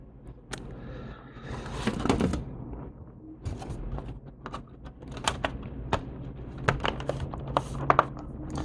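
Keys clacking on a repaired LG Gram laptop keyboard after a coffee-and-milk spill, tapped in an irregular run of sharp, close clicks with some handling knocks and a faint background murmur.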